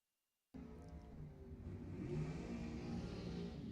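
A dragster and a Porsche race side by side at Lebanon Valley Dragway. Engine noise bursts in after a short silence and stays loud and steady, then swells a little as the cars run.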